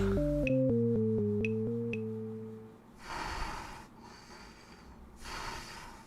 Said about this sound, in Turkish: Acaba kim eşek gibi nefes alıyor kapının arkasında?